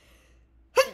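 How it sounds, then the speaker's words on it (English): One sharp, loud human sneeze bursts out near the end after nearly a second of quiet room tone. "the sneeze came before I could stop it"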